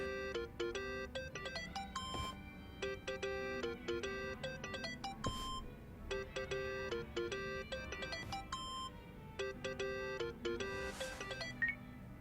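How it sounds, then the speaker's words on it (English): A phone rings in Yakuza: Like a Dragon, a bright repeating electronic ringtone melody in short patterned bursts, fairly quiet and steady with no talking. "Think that's your phone, man."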